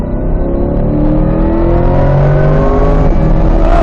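A Chevrolet Corvette E-Ray accelerating hard down a racetrack straightaway at NCM Motorsports, its engine note loud and close from inside the car, rising steadily in pitch through the gears with a continuous roar.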